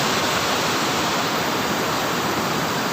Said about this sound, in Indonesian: Ini ada air terjunnya, air terjun.